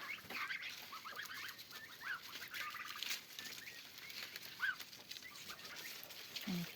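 Geese and turkeys feed on corn leaves outdoors in the evening, giving occasional faint honks and clucking calls over soft rustling, with a low call near the end.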